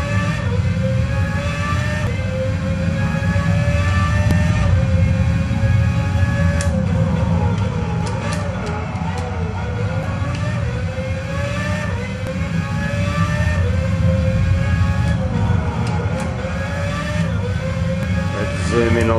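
High-pitched Formula 1 car engine from the F1 PlayStation video game at Bahrain, whining steadily with repeated rises and falls as gears shift through a lap, with a commentator's voice faintly underneath.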